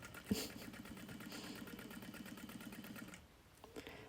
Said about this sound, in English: I am backstitching at the beginning and the end of that seam